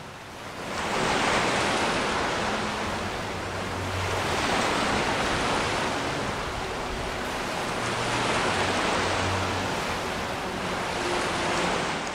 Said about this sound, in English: I'm listening to the waves. Yeah, I like that sound a lot.